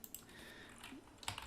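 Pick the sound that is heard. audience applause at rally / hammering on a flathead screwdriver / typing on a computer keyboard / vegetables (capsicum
typing on a computer keyboard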